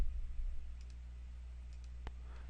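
Computer mouse clicks, a few soft faint clicks followed by one sharper distinct click, over a low steady hum.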